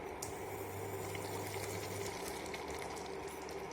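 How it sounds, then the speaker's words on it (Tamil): Steady low bubbling and simmering of tamarind rice mixture in a pot, a continuous soft churning that stays even throughout with no voices. "நல்லா கொதிக்குது பாருங்க"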